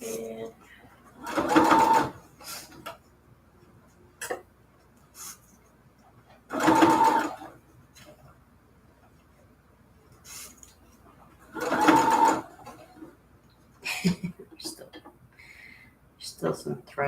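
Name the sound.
sewing machine stitching a junk journal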